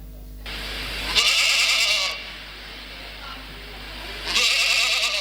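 A man mimics a young goat's bleat with his voice in a rural Hindi comic tale, giving two loud, bright bleating calls separated by a quieter pause.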